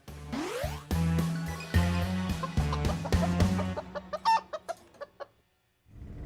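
Chickens cluck and crow in rapid bursts close by, starting loud and busy, then thinning to a few sharp, spaced calls before a short pause and a last cluck.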